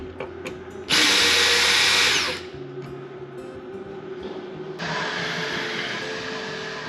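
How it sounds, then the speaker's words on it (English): A power drill bites into a boat's surface to make holes for a new antenna mount, a loud close burst of about a second and a half, then quieter whirring and a second softer run. "Alright, mounting the new antenna mount. To drill 3 new holes"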